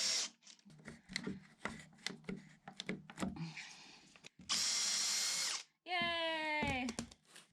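Power drill boring into wood with its last remaining bit: scraping and grinding bursts, then two sustained loud high-speed drill whines, the last one rising and falling in pitch.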